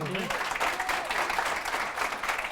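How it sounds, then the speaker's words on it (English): An audience at a live science talk show claps in a dense, continuous burst of applause, moderately loud throughout, with a voice briefly audible over it at the start. "Give him a round of applause."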